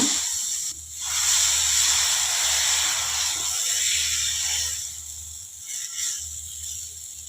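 Aloo paratha dough laid on a hot pan on a gas stove gives a steady, close sizzling hiss that swells and fades, with faint scraping clicks and a low hum beneath, no voices.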